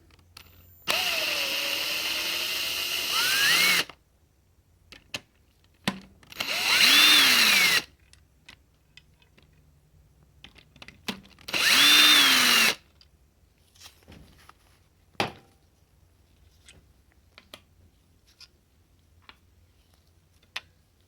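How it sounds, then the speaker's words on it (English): A power drill whirs in three separate bursts, each winding up to a high steady whine and stopping, with quiet clicks and handling noises between. "I'll get this on a drill"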